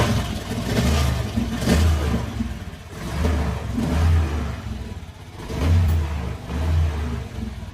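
A Honda Beat fuel-injected scooter engine revs up and down in repeated surges, loud and close, its low throbbing note rising and falling with each throttle pull, struggling under throttle.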